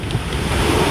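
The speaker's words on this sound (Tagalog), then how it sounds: "Medyo malakas-lakas ng konti yung alon." Rough sea surf rolls in on a coast, heard as a loud, close, continuous wash of waves mixed with heavy wind buffeting the microphone, with no talk.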